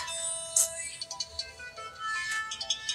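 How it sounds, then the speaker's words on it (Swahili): A mobile phone ringtone for an incoming call chirps in short, uneven high-pitched bursts, fairly faint over a quiet room background. "Bi mkubwa wangu anapiga simu hapo."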